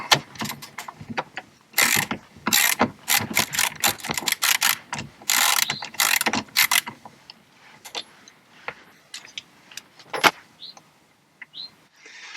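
A ratchet wrench loosens a part on a Jeep Grand Wagoneer, with close, loud bursts of rapid clicking in quick repeated strokes, then sparser clicks and clanks as the work slows.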